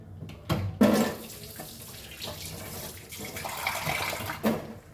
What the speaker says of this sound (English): And now we will add little bit of water to this.